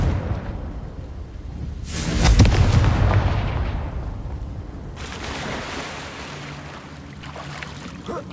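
Confringo blasting spell explosion in the video game Hogwarts Legacy, a heavy boom swelling and then rumbling away, followed by a second softer burst over an ambient background.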